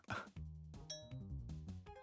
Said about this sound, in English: Bell went, so I can go here.